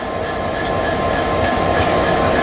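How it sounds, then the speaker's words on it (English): GBRf Class 66 locomotive 66739 "Bluebell Railway" rolls through Clapham Junction station hauling a long train, a steady loud rumble and rattle of wagons close by with no gaps, alone without talk. "What a train."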